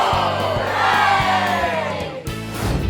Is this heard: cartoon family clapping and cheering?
yes